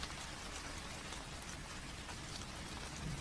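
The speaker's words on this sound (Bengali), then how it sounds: "বৃষ্টি হচ্ছে বটে" Steady rain falls over a village at dusk as a cartoon sound effect, a dense, even hiss of drops with no break, soft and continuous.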